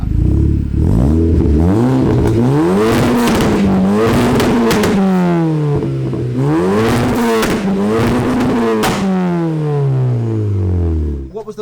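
Golf GTI with a full 3-inch Scorpion turbo-back, non-resonated exhaust revving hard through several gears, the pitch repeatedly sweeping up and dropping on each shift, loud and close with a sharp crackle between pulls.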